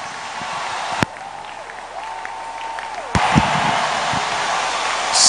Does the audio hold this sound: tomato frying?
no